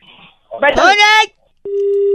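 Telephone tone after a call is cut off: a brief burst of voice is followed by a steady, loud continuous tone that holds to the end.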